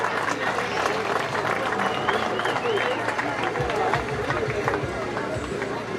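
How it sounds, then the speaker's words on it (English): At a youth soccer prize-giving on an oval, a crowd applauds as a team returns to position. The clapping and crowd noise are steady and mid-distance, with voices and babble mixed in throughout. "Let's give the Eagles a round of applause as they go back to their positions,"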